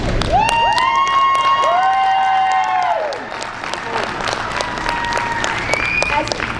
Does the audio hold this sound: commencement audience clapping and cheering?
yes